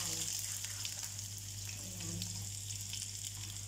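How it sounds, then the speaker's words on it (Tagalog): Chicken for chicken rolls is sautéed in a pan, giving a soft, steady hiss of frying with faint scattered crackles. It is quiet and stays even throughout, with no one speaking. "Igisa ko muna siya."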